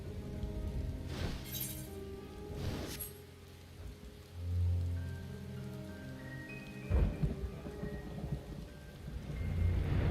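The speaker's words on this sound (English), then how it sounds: "Thunderstorm." Rain falls steadily through a thunderstorm in the Final Fantasy XIV online game, with several low thunder rumbles and a few sharper cracks rolling over the constant patter, played over background game music.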